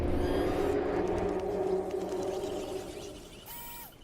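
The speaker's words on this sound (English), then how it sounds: "That's the sound of the mighty T-Rex." A T-Rex in the video game PUBG Mobile gives a deep, sustained, rumbling roar that slowly fades, ending with a short, high electronic tone.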